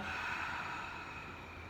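A steady, airy exhale through the nostrils pushed out close up during yogic breathing, a soft rushing breath that fades slightly toward the end.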